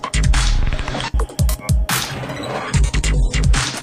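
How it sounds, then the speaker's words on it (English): A mastered electronic tune played back as a low-quality MP3 with no processing, dull and lacking top end, with steady kick-driven beats and a dense full mix throughout. "So this is the bad quality MP3 of the same tune."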